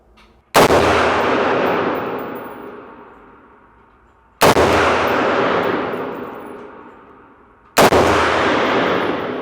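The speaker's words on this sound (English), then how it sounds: "We'll man. go to semi-auto first, okay? So you can feel this gun, because they all shoot a little bit different." Three single semi-automatic gunshots ring out at a firing range, spaced a few seconds apart, each a loud sharp crack with a long echoing decay and near silence between.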